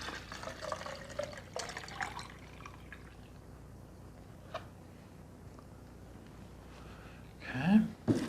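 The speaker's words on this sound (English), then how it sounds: "Now I'm going to add water." Water poured into a sucrose solution in a lab container, a faint, quiet trickle with soft drips and a louder splash near the end, no talking.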